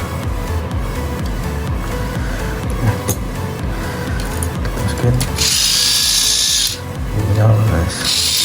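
A Crush Gear Dino Phalanx battery-powered toy's motor runs in a loud, steady, close whir with slight shifts in pitch, while a voice talks over it.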